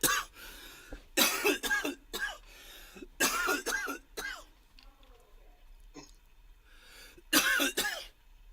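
A person coughs repeatedly in short, harsh bursts, several quick clusters with throat-clearing sounds between them, close and fairly loud, with quiet pauses.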